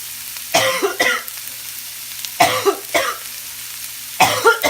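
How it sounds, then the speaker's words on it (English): Three separate bursts of coughing, each a quick harsh double hack, spaced a couple of seconds apart over a quiet low hum. "My cough had left, but I think it's coming back"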